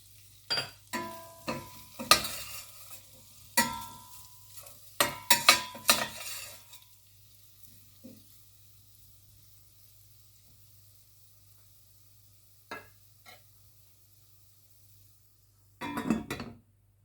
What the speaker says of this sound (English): in between you need to keep stirring so it doesn't stick to the bottom